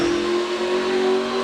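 A NASCAR race car engine fires up and runs loud and close with a steady, strong tone, revving slightly throughout.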